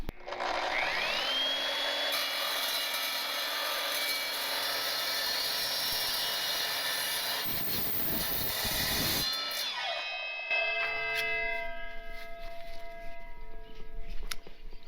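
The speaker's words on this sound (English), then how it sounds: "Dry cut saws are the way to go." A dry cut saw bites through steel stock for a gooseneck trailer winch mount, a loud sustained high-pitched whine and grinding roar that runs for several seconds, then cuts out and leaves a fading ringing tone as the blade spins down.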